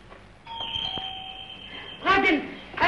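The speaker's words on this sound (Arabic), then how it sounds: "جرس الباب يضرب" A doorbell rings at home with a sustained electronic chime tone, followed by a brief rustling, shuffling noise. No one speaks.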